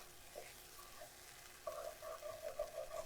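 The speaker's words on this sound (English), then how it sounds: "we'll give this a little stir." A spoon stirs vegetable pot pie filling in a pan over quiet sizzling, with soft scraping and light clinks that grow busier in the second half.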